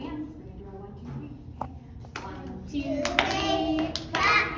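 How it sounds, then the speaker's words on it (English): A child-directed clapping song session with hands clapping in short bursts, growing louder toward the end, mixed with speech and background voices. "Clap your hands for me."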